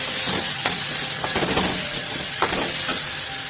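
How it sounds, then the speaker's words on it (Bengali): Ginger garlic paste frying in hot oil crackles in a continuous close sizzle, broken by sharp scraping taps of a spatula as it is stirred. "আদা রসুন পেস্ট ভালো করে দিয়ে দিলাম দিয়ে এটাকে ভালো করে নাড়াচাড়া করে দিচ্ছি"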